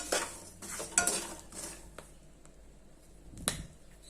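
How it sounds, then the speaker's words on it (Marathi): Peanuts roasting in salt in a pan at home crackle and pop in a few sharp snaps, with light scraping and stirring sounds in between, close and fairly quiet. "छान असा आवाज येते असे फुटतात शेंगदाणे"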